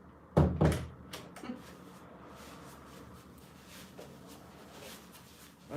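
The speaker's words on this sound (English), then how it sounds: "the door's going to open now" A house door is opened with a couple of sharp clunks and rattles of the handle and frame, close by, then the room falls quiet with faint background hum.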